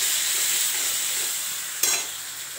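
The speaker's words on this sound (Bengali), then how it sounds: "এবার নাড়ব।" Yogurt masala with salt sizzling in a pan while being stirred, a steady close frying hiss with a sharp scrape or clatter near the end, no talking.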